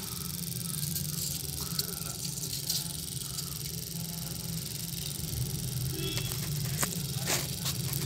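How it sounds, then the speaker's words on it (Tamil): A faulty relay with a bad body ground in a Mahindra Bolero Pickup clicks on and off in irregular sharp ticks over a steady low hum, with a voice talking in the background. "இந்த ரிலே பார்த்தீங்கன்னா கட் ஆஃப் சவுண்டு வந்துகிட்டே இருக்குது"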